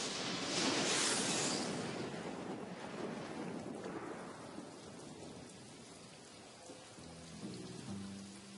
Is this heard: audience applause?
no